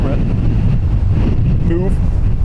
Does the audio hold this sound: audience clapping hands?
no